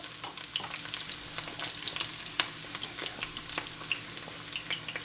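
Garlic-marinated mutton sizzles steadily in a hot pan with onions, with crackling pops and occasional stirring scrapes, fairly quiet and close, no voices.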